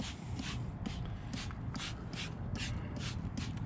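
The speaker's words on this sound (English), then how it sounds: "I'm just going to generously spray it" Rapid hissing bursts from a spray bottle of cleaner onto a car's interior door panel, about ten quick squirts in a steady rhythm, close but soft, over a low background rumble.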